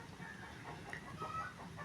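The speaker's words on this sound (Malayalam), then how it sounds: "നമ്മുടെ കോഴികൾ നല്ല പോലെ കരച്ചിലാണ് കേട്ടോ" Chickens clucking and calling in a steady, continuous flock chorus, with a few sharper cries rising above the noisy background at moderate distance.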